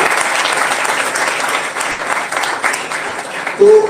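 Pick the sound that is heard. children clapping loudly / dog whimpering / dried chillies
children clapping loudly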